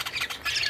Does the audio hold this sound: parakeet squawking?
yes